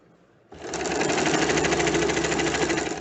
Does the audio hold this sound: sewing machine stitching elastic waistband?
yes